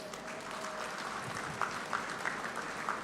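An audience at the Google Cloud India AI Hub groundbreaking event gives soft, distant applause as a steady patter under room noise, with a few sharper cheers or shouts rising near the end.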